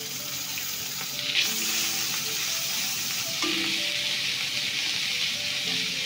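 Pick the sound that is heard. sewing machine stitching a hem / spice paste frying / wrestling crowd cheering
spice paste frying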